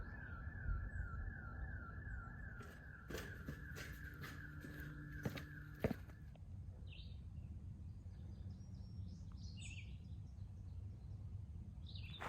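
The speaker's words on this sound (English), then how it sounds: "you can probably hear that's an alarm down at the visitor center parking area" A car alarm sounds nonstop down at a visitor center parking area seen from a trail summit, a faint, distant repeating electronic wail with pulsing tones. Crows caw nearby over it.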